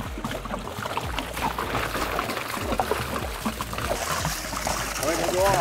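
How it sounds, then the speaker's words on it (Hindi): Water pours steadily in a broad rushing gush into a large tub holding about 100 kg of turmeric powder. Roughly 100 litres go in, and it continues unbroken throughout, with people talking over it. "फटाफट से पानी डाल देते, पानी डाल दो"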